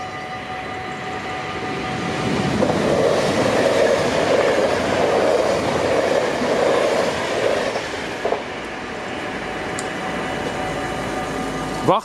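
A train approaches and passes a railway level crossing where half barriers have lowered, a loud sustained rumble and clatter of rail wheels that swells and then holds steady.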